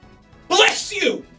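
A single loud, close human sneeze bursts out sharply and fades within about a second, heard alone against quiet.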